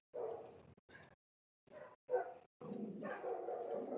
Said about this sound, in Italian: Da Rubi che abbaia, vai a vedere, dai.